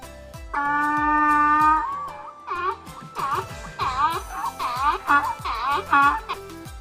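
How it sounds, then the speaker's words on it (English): A donkey gives a long drawn-out tone, then a series of rhythmic, wheezing hee-haw brays, loud and close, over a light repeating musical beat. "donkey"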